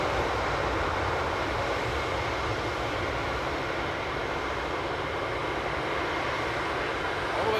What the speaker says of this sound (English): And China A350 departing in the background.